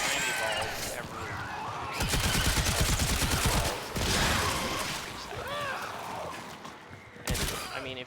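A weapon in the video game Warframe that fires about ninety projectiles per shot lets off dense rapid bursts of gunfire in waves, loud and close, with some game effects mixed in.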